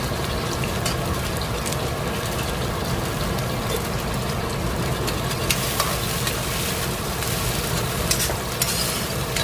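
Onions frying in a pan for a shrimp dish, a loud steady sizzle running throughout with occasional crackles and faint stirring clicks near the end.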